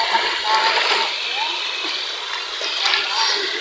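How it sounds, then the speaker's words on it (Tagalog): Continuous splashing floodwater, a steady bright wash of sloshing and spattering without pause, fairly close. "Tapos napasok yung tubig sa bahay ng mga beo."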